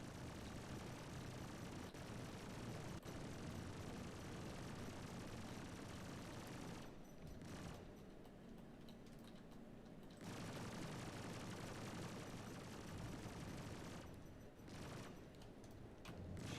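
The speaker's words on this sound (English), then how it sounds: "Can I dodge his fire for long enough for his cannon to run out and then move in for damage and kills?" Rapid, sustained gunfire from an enemy ship's cannon in the space combat game Star Citizen, a dense continuous barrage that runs nearly the whole time with brief lulls, loud and up close.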